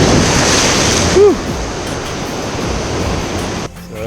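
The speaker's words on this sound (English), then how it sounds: "I just think that the waves are a little bit bigger over here" Ocean waves roll onto a Central American shore beside an estuary, a loud continuous wash of surf with wind buffeting the microphone, and a brief high squeak partway through.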